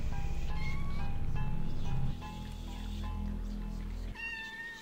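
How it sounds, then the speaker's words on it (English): In the video game OFF, a cat meows loudly and repeatedly over droning background game music, the calls echoing in a steady series for several seconds. "I am meowing at the top of my lungs, pretending the echoes belong to someone."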